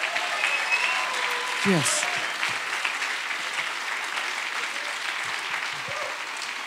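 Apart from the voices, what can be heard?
church congregation applause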